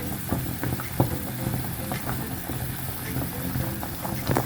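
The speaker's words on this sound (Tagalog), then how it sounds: "So ilagay na natin yung ating kunting gulay." Vegetables and cabbage drop into a pot of laksa noodles, the liquid frying and bubbling with a steady close sizzle, soft clinks of stirring scattered throughout.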